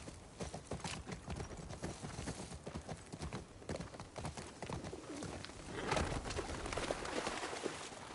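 Horse hooves clip-clop steadily in The Last of Us Part II, a busy run of dense hoofbeats mixed with cooing pigeons and other ambient game sound, growing a little louder toward the end.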